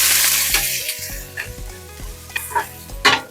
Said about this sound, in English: So now we're gonna cook the onion.